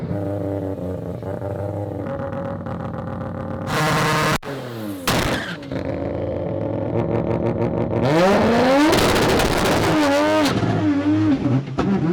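A turbocharged race car launches on a timed drag run, engine roaring and revving hard with rising pitch sweeps, a brief stutter and break midway, then climbing loudly again through gear changes.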